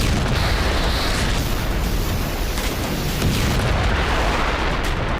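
Explosions from a heavy Russian missile attack rumble as a continuous loud, booming roar, dense and unbroken through the whole stretch.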